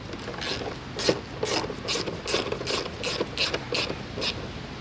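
A ratchet tightens a 10mm screw on a Chevy Impala or Malibu fuse box, giving a steady run of close, crisp clicking strokes with short pauses between bursts.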